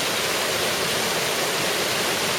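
Steady, rushing water of Lost Creek flows continuously with a broad hiss, close and unbroken.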